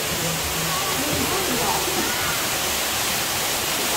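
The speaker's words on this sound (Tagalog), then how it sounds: "dito tayo sa The Grand Golden Waterfalls" The Grand Golden Waterfall pours inside a large, crowded cave in Japan, a loud, dense, unbroken roar of falling water that fills the space without pause.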